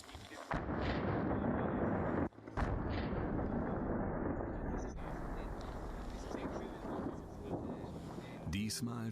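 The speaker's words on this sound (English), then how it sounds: "This time the detonation has more effect." Explosive detonation set off in high alpine mountains to trigger a snow avalanche, heard as a sustained loud rumbling roar with a brief dip and renewed roar, fading toward a softer rush at the end.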